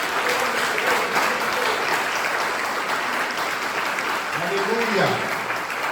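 Church congregation applauding in a steady, sustained wash of clapping throughout, with a preacher calling out briefly over it near the end.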